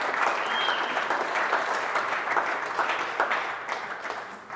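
A room of colleagues at a company all-team meeting applauding, a thick, continuous patter of many hands that holds steady and then thins slightly toward the end, with no clear speech over it.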